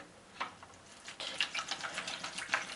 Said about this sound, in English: After you add your 2 liters of water,